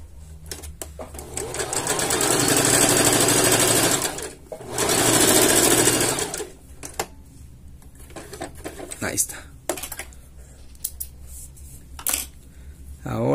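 Sewing machine stitching porous fabric in two loud, sustained whirring bursts up close, followed by quieter clicks and handling noise, with a person talking throughout.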